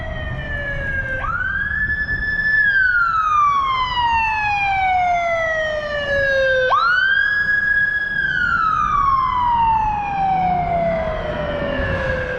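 A police car siren wails in two long rising-and-falling sweeps, loud and close, over a low traffic rumble with no talking.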